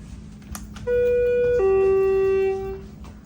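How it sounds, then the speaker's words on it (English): The alarm bell in a Schindler hydraulic elevator at a university hall rings as a steady electronic tone that holds for about two seconds, shifting pitch once partway through, loud and close. "Let's ring the bell."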